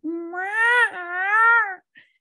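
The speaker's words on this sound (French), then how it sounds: "mon chat là, pleure comme un bébé" A cat's long, wailing cry that rises and falls like a crying baby, loud and close, two drawn-out harmonic yowls run together, followed by a brief faint squeak.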